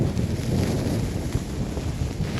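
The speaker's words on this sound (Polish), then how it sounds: "wiatr też na maksa" Strong mountain wind in the High Tatras buffeting the microphone in a constant low roar, with gusty rumble and no voices, amid snow near a summit.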